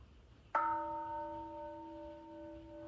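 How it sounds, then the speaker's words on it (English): A single bell is struck once during a mindfulness ritual, giving a sudden clear strike followed by a long, steady ringing tone that fades slowly in a quiet room. "So that bell"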